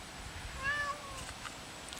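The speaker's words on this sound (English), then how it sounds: "And Oliver, my cat, has come to join us." A single short cat meow rises briefly and fades, quiet and nearby against a faint background hum.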